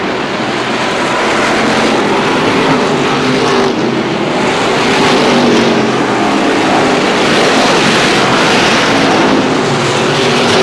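Stock cars racing at Star Speedway in New Hampshire, a dense continuous roar of multiple engines at close range, loud and steady with swelling passes throughout.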